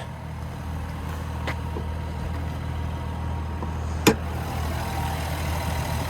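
Twin-turbo inline-six Hurricane engine in a 2025 Ram 1500 RHO idling, a low steady rumble held at an even level throughout, with one sharp click near the end.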